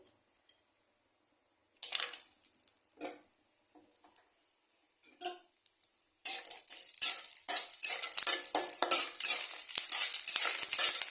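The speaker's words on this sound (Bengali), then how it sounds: "তেলটা অল্প গরম হয়ে গেলে আমরা বড়িটাকে ভাজা করে নেব।" Bori lentil dumplings drop into hot oil in a pan: after a few scattered clinks and stirring taps, a dense, crackling sizzle bursts in and keeps bubbling steadily up close.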